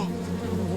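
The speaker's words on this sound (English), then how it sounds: "He gets attacked by a swarm of bees." A swarm of bees attacking in a film sound effect, a dense, steady, close buzzing drone of many insects filling the brief moment without any voices.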